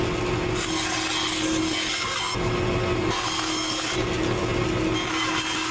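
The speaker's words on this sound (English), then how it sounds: "gonna cut out this Cocobolo wood, kind of a oval, like football shaped thing." Cocobolo wood, a quarter-inch piece, being sawn into an oval, football-like shape: a steady, continuous rasping cut close by with brief pauses, and no talking.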